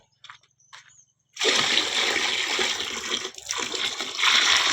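Water gushes loudly and steadily into a container after a couple of brief faint knocks, filling continuously with slight shifts in tone, no talking.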